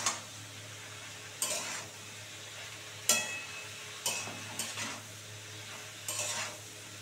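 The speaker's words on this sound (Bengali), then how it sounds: "কুচি কুচি করে কাটা লাউটা দিয়ে দেবো বন্ধুরা" Chopped bottle gourd sizzles softly in a pan while a utensil scrapes and clanks against the metal in several separate strokes, each sharp knock followed by a brief scraping stir over a quiet frying hiss.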